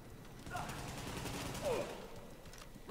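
Gunfire in The Division, a tactical shooter, crackles in short bursts throughout, with a brief spoken callout partway and a faint rising tone near the end.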